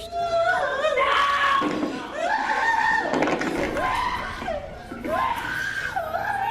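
A family member screams and wails in a courtroom as deputies hold a convicted teen, with loud, repeated high cries and sobbing that run continuously.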